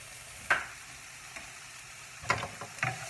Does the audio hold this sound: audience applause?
no